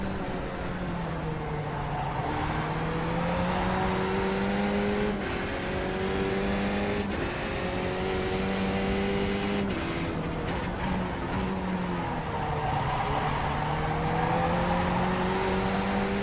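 A Skip Barber race car in the iRacing sim at Oran Park drones loudly throughout, engine pitch rising and falling through gear changes as another car gets by on the left, with no talk.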